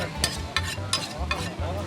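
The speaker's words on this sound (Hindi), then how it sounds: "ये टोका कैसे तेज़ करते हैं स्टील के साथ" Butcher's cleaver being sharpened on a steel, with five quick, evenly spaced metallic scrapes over a low background rumble.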